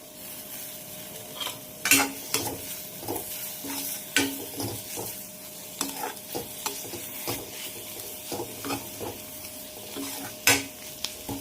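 Soda chutney with chopped coriander being stirred and fried in a pan, with a steady sizzle broken by sharp utensil scrapes and clinks at irregular intervals, close and fairly loud, no talking.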